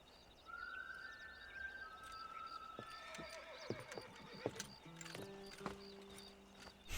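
A horse whinnies loudly and close by in Red Dead Redemption, followed by clopping hooves and scattered knocks as the animal shifts and walks, with no talking.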